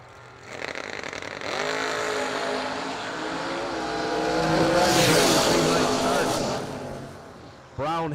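A 1968 Camaro launches and accelerates hard down a drag strip at a Christmas bash event, its engine note sweeping upward loud and sustained, fading away near the end as an announcer talks over it.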